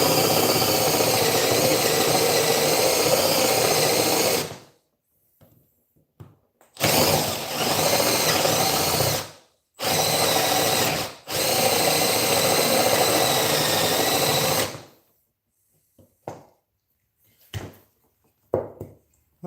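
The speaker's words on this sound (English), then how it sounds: "Forstner bits eat away a lot of material really, really fast, and they leave big chips" A Forstner bit bores into wood in several loud bursts of power-drill whine, each running a few seconds with short silences and small clicks between them.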